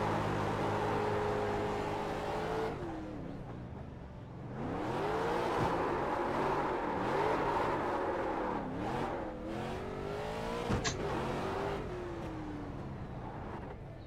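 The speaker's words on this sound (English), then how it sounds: "Apparently they're still racing." Street stock race cars in the iRacing simulator drone and rev continuously on track, engine pitch rising and falling through gear changes with a brief sharp spike near the end, no talking.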